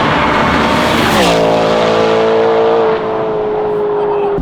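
A BMW E90 M3 engine revs up loudly and then holds a steady high drone while driving through the Leicestershire countryside, with a brief drop in tone near the end.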